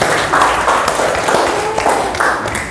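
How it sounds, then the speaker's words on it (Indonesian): Students in a classroom give themselves a round of clapping, a dense, close patter that carries on steadily for a couple of seconds. "Oke, tepuk tangan dulu untuk kelas semua."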